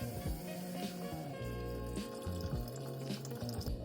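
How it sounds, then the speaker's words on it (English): Water runs and splashes into a saucepan while making beef stroganoff with short ribs, a steady close pour with bubbly tonal gurgles and a few drips, no talking. "I'm going to add some water into the saucepan."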